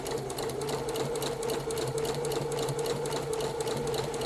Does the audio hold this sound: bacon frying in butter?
no